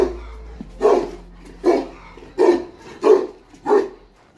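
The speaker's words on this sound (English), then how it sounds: "It is a special kind Turkish dog, we call it Kangal." A Kangal, a large purebred Turkish guard dog, barks at a house in Kocaeli. Six deep, loud barks come one by one at a steady pace about every half second to second, close by, with no talking.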